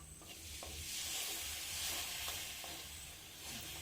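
Mango pickle mixture with spices and water is stirred in a pan, a faint soft sizzle running throughout with occasional scraping strokes of the spoon at a gentle, irregular pace.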